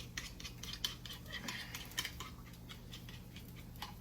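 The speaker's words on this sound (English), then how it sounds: "So we're scrambling these eggs over here." Eggs being scrambled in a pan with bacon cooking nearby, quick light scraping and clinking of a utensil against the pan in an irregular rhythm, close but quiet.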